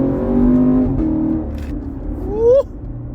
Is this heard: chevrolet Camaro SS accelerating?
yes